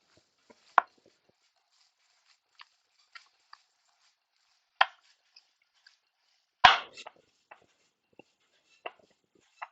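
Spiced pork sausage mixture being kneaded and folded by hand, heard as sparse, irregular dull thumps and soft slaps against a surface, with one heavier press and quiet gaps between.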